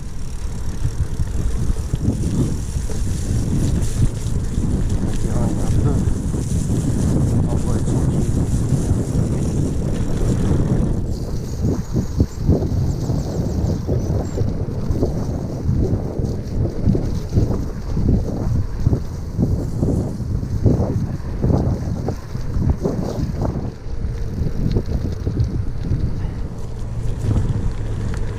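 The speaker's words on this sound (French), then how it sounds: "il y a un petit vent quand même" Steady wind buffets the microphone beside the Oise river, a continuous low rumble and rush lasting throughout, with a brief spoken remark partway through.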